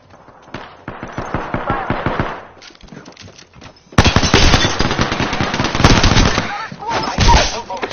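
Rapid automatic gunfire in the battle royale game Apex Legends, loud bursts of rattling shots in quick succession, with a heavier, denser volley in the second half.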